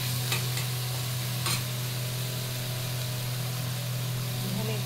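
Ginger spice paste frying and being stirred in a pan, a steady close sizzle with a constant low hum beneath and a few brief scraping accents from the spoon.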